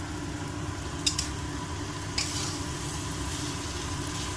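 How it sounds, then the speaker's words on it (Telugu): Tomatoes with salt cooking down in a pan for an onion tomato curry give off a steady, soft sizzle and simmer, with two brief clinks of a utensil. No talk. "టమాటోస్ మగ్గుతున్నాయి కదా, ఇది ఉప్పు వేసేసుకున్నాము"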